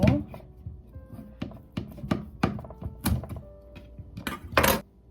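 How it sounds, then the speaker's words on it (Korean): A kitchen knife chops through a raw sweet potato on a cutting board, trimming off both ends while preparing a Korean sweet potato salad. Close, sharp thunks land irregularly one after another, with a louder final chop. "고구마는 일단적으로 이렇게 음, 칼로 양쪽 끝에 잘라주시고"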